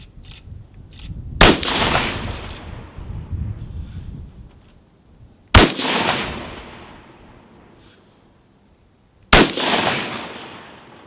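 A rifle fires three loud, sharp shots at a target, several seconds apart, each crack followed by a long rumbling echo that trails off before the next.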